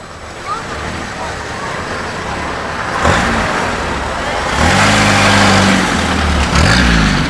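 Classic cars drive past at the 1998 Rushden Historical Cavalcade, their engines rumbling and swelling louder as they come near, mixed with crowd chatter and a voice talking in the background.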